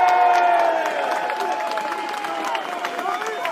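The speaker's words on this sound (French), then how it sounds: "vous pouvez l'applaudir" Crowd at a political rally applauding and cheering, a dense steady wash of clapping beneath a voice that stays over it throughout.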